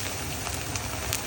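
Ginger and chili paste hits hot oil in a pan for katla kalia, producing a brief, steady, close frying hiss without voices.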